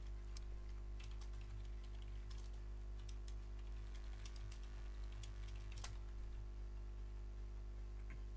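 Quiet, scattered clicks from a computer keyboard being typed on during an S4 League gaming session, sparse taps over a constant low electrical hum, faint and close, with no speech.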